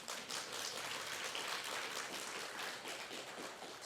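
An audience at a Buddhist dharma lecture applauds, a dense spatter of clapping held at a steady level, fairly faint and heard from some distance.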